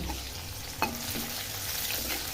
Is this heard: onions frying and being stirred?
yes